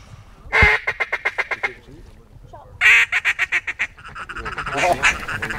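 Ducks quack during a duck hunt: two loud, close series of rapid, evenly spaced quacks, followed by a busier stretch of overlapping calls.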